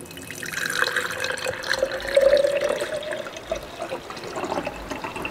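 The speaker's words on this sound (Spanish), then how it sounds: "ahorita les voy a poner el agüita para ponerle la planta" Water is poured into a handmade planter, a continuous splashing, trickling flow, fairly close and steady for several seconds with no talk over it.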